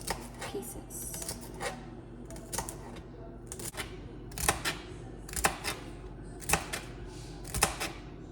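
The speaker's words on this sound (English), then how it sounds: "I'm going to cut the celery in half. Cut it in really small" A knife chops celery into small pieces on a cutting board, giving a series of sharp, close taps in an uneven rhythm over a quiet room.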